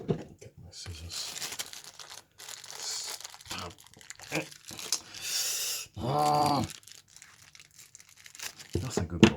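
Packaging for Awei T5 true wireless earphones crinkles and tears during an unboxing at a windowsill, in short rustling bursts with a louder ripping stretch, broken up by talking.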